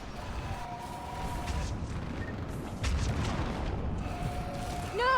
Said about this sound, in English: On that building, we've got fire support.